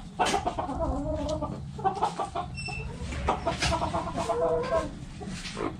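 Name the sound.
chickens clucking on a farm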